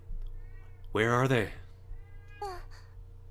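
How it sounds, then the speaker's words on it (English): A cat meows loudly in a long, drawn-out call, followed a moment later by a shorter, higher meow, while a person speaks briefly in between against a quiet background hum. "Meowing."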